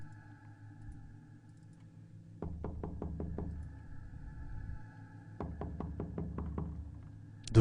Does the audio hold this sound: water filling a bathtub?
no